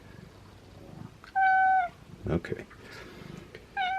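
A cat gives two clear, loud meows indoors, one early and one at the end, with a brief spoken word and some handling noise in between.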